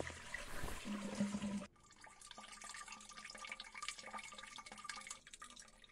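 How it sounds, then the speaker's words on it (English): A toilet flushes in the video game Burnhouse Lane: a loud rushing burst for under two seconds, then a long trickle of refilling water and gurgling drips that fades slowly, with no talk. "So now let's go and flush this."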